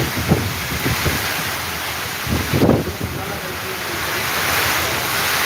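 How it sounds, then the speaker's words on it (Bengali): Nor'wester storm at night in Sylhet heard from indoors, with heavy rain and strong wind making a constant loud roar, and a few brief thumps and gusts rising above it. "ঝড়ের আওয়াজটা আপনারা শুনতে পাচ্ছেন যে অনেক"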